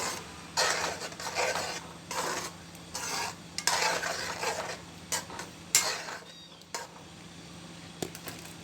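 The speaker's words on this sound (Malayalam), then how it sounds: "ആദ്യം കുറച്ച് ഒഴിച്ചിട്ട് നല്ല പോലെ തന്നെ ഇളക്കിയിട്ട്" A ground coconut mix is stirred into a vegetable curry in a pot, producing repeated soft scraping strokes of a spoon with faint bubbling and light sizzle between them.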